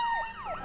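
Wailing police car siren from a Looney Tunes video game, a loud rising and falling electronic tone sweeping up and down about twice with no talk over it.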